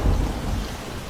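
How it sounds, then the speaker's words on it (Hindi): Heavy rain pouring continuously at night, with a deep rumble of thunder at the start that fades under the steady downpour. "अचानक से आधी रात को तेज गड़गड़ाहट के साथ बारिश होने लगती है।"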